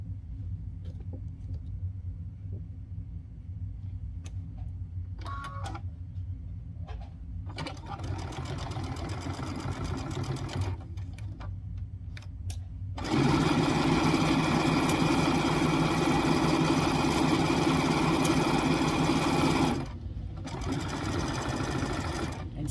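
A sewing machine stitches fabric for a Valentine gnome craft, starting with soft intermittent runs and then a long, loud, steady whirring stitch before stopping briefly and resuming.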